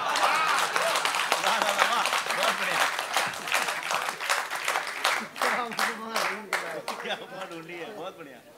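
An audience at a poetry recital in Thane, Mumbai, claps in a sustained, dense round of applause that thins out and grows more scattered toward the end.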